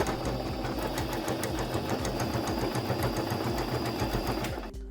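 A sewing machine stitches pieces of premium fabric remnants for an eco-friendly pillow, a steady, dense mechanical whir and rapid needle chatter running close and continuous for the whole stretch before stopping abruptly at the end.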